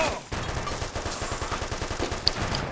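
Rapid automatic gunfire in the military shooter ArmA 2 during a zone-holding multiplayer match, a steady stream of sharp repeated shots after a brief pause at the start, loud and continuous.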